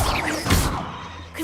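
Expulso spell cast in Hogwarts Legacy, a whooshing surge into a crashing blast burst midway, loud and close amid game sounds.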